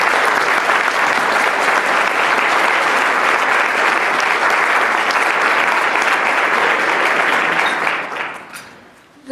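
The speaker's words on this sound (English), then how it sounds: "Let's give them a big round of applause." Sustained applause from a luncheon audience at a 2018 recognition event, thick and even for most of its length before tapering off near the end.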